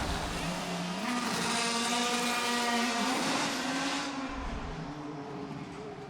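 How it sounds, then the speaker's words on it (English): Loud, continuous engine whine and mechanical clatter with rising and falling pitch, a race car idling then revving during a pit stop in a busy pit area, no talking. "now we're going to see who has the fastest pit stop"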